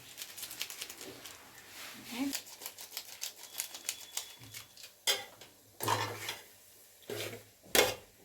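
Spatula scraping and clattering in a pan while stirring beetroot egg bhurji, with several sharp metallic knocks that come louder and more spaced out toward the end over a quiet kitchen background.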